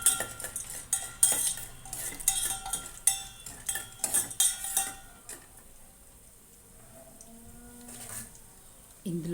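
Tempering seeds and chana dal sizzle in hot oil in a pan on a stove, with rapid metallic clinks of a spoon stirring during the first half, then a softer steady fry.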